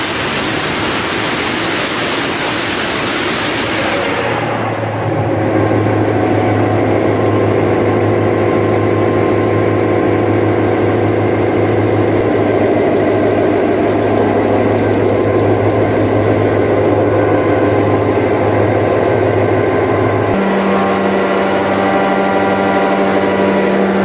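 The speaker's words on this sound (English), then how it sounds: "Watch a GM diesel generator, equipped with a 16V71 engine, crank up with a deep, smoky rumble after sitting idle." A GM diesel standby generator with a 600 horsepower 16V71 engine cranks, fires and settles into a loud, steady, deep rumble with a constant low drone, close up and with no talk.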